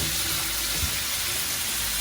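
Food frying in a pan, thin-sliced pieces cooked in a home kitchen, giving a steady close sizzle and hiss throughout with no talk.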